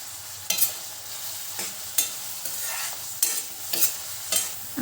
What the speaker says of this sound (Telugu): వీటిని ఫ్రై చేసుకుందాం